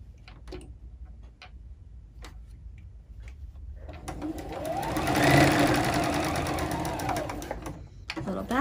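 A sewing machine backtacks on a fabric face mask, starting with a few sparse ticks and clicks, then running steadily for about four seconds with a rising and falling whir, ending in a sharp click.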